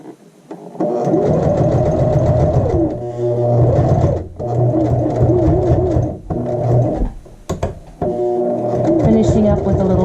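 A sewing machine runs in long continuous whirring bursts while edge stitching the waistband of a skirt, pausing briefly between runs and ending in a short back stitch, close and loud.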